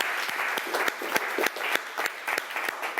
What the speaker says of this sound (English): let's just have a huge round of applause if we could